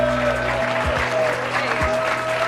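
An audience at a revue-leader event applauds steadily, a dense continuous wash of clapping with a few louder claps standing out, heard throughout.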